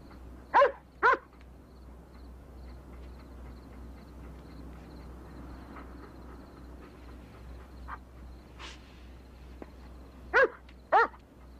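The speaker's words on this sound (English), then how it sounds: "A dog?" A dog in a television drama barks in two short pairs, once near the start and again near the end, with a quiet room tone between them.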